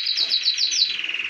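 Canaries in an aviary give a quick run of about six bright, repeated chirps that blur into a short high trill, loud and close with no one talking.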